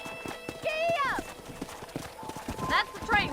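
Rhythmic hoofbeats clip-clop along while a horse whinnies twice in the video game Red Dead Redemption, with voices talking over the steady trotting.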